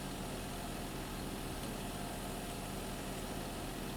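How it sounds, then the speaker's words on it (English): Landini tractor engine idling in a farming video game, a steady low mechanical drone holding at constant loudness throughout with no speech. "So I'll now jump on my Landini tractor and we'll start fertilizing our grapevine yard."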